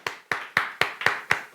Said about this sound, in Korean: 우리 하나님께 영광의 박수를 드리겠습니다.